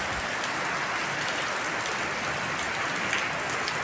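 Heavy monsoon rain pours down in a steady, unbroken roar of drops hitting the ground, loud and close with no one talking.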